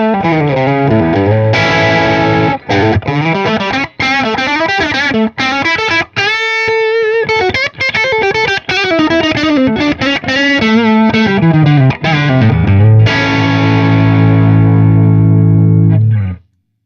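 A loud distorted electric guitar through a Mesa/Boogie Mark V's Mark I channel, power section at 45 watts class AB, plays a continuous riff of chords and bends, ending on a sustained ringing chord with no voices.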